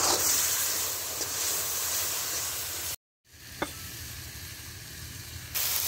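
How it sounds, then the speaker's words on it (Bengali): Dried fish frying in a village kitchen with ginger, garlic and onion paste, giving a loud, steady sizzle that breaks off briefly midway and then resumes with a sharp crackle, with no voices. "শুটকি ভাজা ভাজা হয়ে গেছে, শুটকি ভাজা হয়ে গেছে। এখন মশলা দিয়ে দিলাম"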